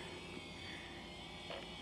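A DJI Phantom drone carrying an Action 3 camera hovers with a steady, faint buzzing rotor whine that stays constant throughout, heard alone without speech.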